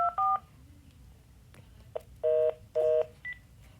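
Telephone keypad tones beeping in short DTMF pairs, two quick presses, a pause, then several more crisp beeps and a brief final tone, clear over a quiet room hum.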